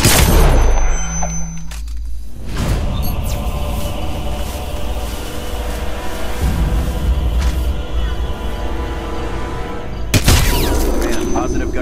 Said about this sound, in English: positive gunshot fire